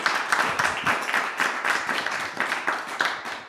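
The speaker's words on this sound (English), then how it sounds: "Let's give him another round of applause." An indoor audience applauds a young man, a lively patter of many hands clapping at close range that swells and then slowly tapers off.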